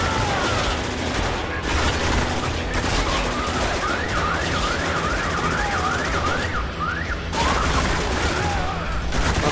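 Sustained gunfire in the Spec Ops: The Line video game, a steady dense crackle of rapid shots with a wailing, siren-like warble rising and falling over it, loud and continuous.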